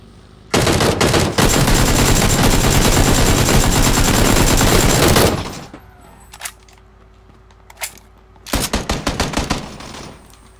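Bursts of automatic gunfire in a PUBG match on Xbox, one long sustained volley of rapid shots, then scattered single cracks and a final shorter burst, loud and close with almost no talk.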